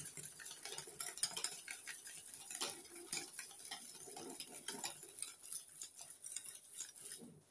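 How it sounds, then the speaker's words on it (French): Milk chocolate mousse being whisked in a bowl for a praline-crisp triple-chocolate yule log, giving a steady run of quick metallic taps and scrapes against the sides, fairly faint and continuous with no talking. "on mélange bien, on fouette bien."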